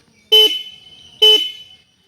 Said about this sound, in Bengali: আর সে সঙ্গে হর্নটাও তোমরা একটু শোনাই দিই গাইস দেখো